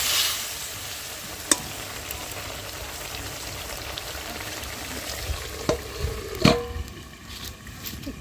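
Turmeric added to hot oil for a leafy greens curry makes a soft, steady sizzle close by, punctuated by a few sharp clicks and spoon scrapes, with a louder stirring burst near the end.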